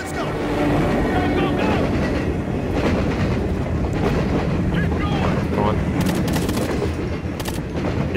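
A moving train in Ghost Recon: Future Soldier gives a steady, loud rumble and rush of wheels and wind throughout, while voices talk under it.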